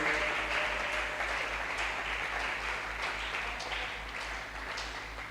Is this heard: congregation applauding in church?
yes